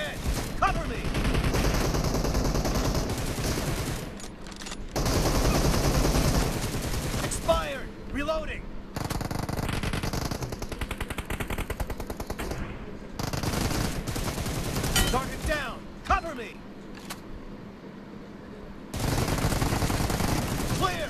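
Rapid bursts of automatic gunfire from a mobile battle-royale shooter, with repeated loud volleys of shots separated by brief pauses, mixed with players talking over the action.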